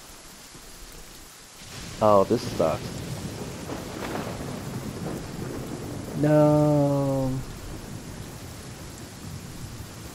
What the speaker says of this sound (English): Oh, it's freaking raining.